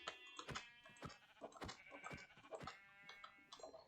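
Sheep in a video game bleat repeatedly in short, nasal cries, about one every half second, fairly close and faint overall.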